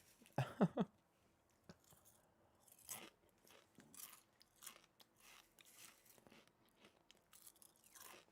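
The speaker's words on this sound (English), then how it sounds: "So I'm munching on some Frosted Flakes" A person chews a mouthful of crunchy Frosted Flakes cereal, opening with a loud close crunch and followed by quieter irregular crunches and mouth noises in a silent room.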